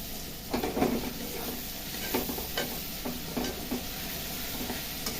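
Spices frying in a pan for a jackfruit and prawn curry, giving a continuous sizzle broken by soft stirring scrapes that come in short bursts.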